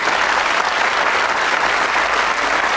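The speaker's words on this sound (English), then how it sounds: "Round of applause," A television game show studio audience applauds both teams in a loud, dense, unbroken roar of clapping that fills the whole stretch evenly.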